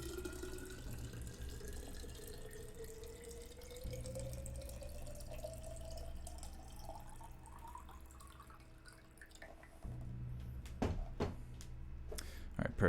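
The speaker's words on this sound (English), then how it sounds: "I'm going to ASMR fill up this water." Water runs from a tap into a container, with the pitch of the filling steadily rising as it fills, broken by splashes and drips near the end. It sounds close and fairly quiet.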